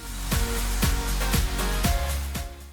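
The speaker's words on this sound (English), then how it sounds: "If your hair doesn't dry fast enough, blow dry it." A handheld hair dryer blows steadily and loudly on 4C hair, its continuous whoosh pulsing slightly as it moves, with no talking.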